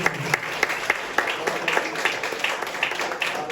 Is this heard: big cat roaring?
no